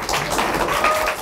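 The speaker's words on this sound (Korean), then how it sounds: "박수로 모시겠습니다" Audience applause in a Korean seminar hall welcoming a professor to give a special lecture, a dense steady patter of many hands clapping for about a second with no voices.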